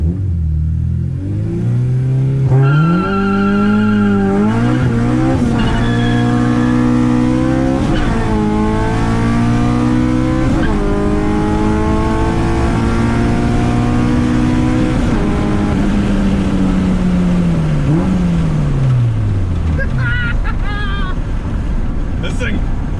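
A K24-swapped Acura Integra launches and pulls hard through several gears, its engine revving high with a rising whine and sharp dips at each shift, very loud and close from inside the car before easing off.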